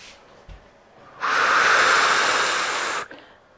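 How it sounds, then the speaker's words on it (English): A sharp nasal sniffing inhale during a Pilates mat class, one close, breathy rush of air lasting nearly two seconds, loud against a quiet room with a faint softer breath just before it. "give yourself that physiologic breath, that little sniff"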